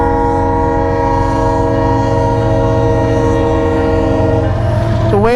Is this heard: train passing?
yes